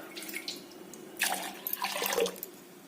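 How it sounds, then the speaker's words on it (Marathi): Two bowls of water splash and pour onto moong dal in a pot in two short bursts against a quiet background. "त्याच वाटीनी दोन वाटी पाणी घालायचं"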